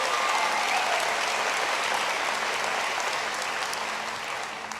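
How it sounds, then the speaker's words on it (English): A large town hall crowd applauds in a dense, sustained wash of clapping, loud and steady before fading slightly toward the end. "Give her a great round of applause"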